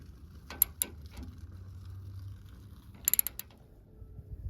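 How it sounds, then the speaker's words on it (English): A ratchet cranks a nut down on a Cargo Glide with short bursts of close metallic clicks, a few separate clicks first, then a quick cluster, over a quiet background without speech. "I'm going to go ahead and crank this second nut down on there."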